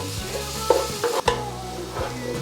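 Malacca coconut palm sugar is stir-fried until it melts in a pan, with a low steady sizzle broken by a few distinct scraping strokes of a spatula up close.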